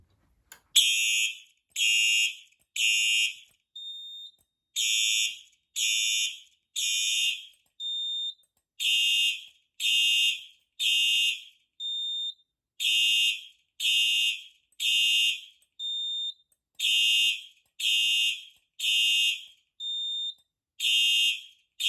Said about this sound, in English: demonstrate the exact same activation sequence, just with smoke detectors